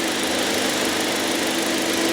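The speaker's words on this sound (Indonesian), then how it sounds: "Ini suara mesinnya." A steady, even idle from a 2019 Toyota Voxy minivan engine hums close by, a continuous mechanical drone with a faint high whine and no breaks or voices.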